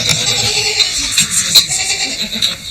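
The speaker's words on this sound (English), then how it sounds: "Their goats and sheep feed from the manger at one end of the cave." Goats and sheep bleat in a rocky cave stable of a small Palestinian hill community, with several close, overlapping calls against a noisy background.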